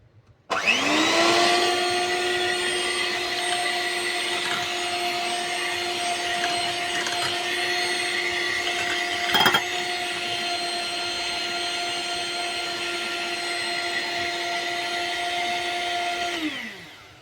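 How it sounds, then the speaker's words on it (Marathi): An electric whisk beats vanilla cake batter with a steady, loud motor whine that starts abruptly, holds for about fifteen seconds with one brief knock partway through, then winds down and stops. "आता यांना परत एकदा थोडंसं विस्क करून घ्यायचंय"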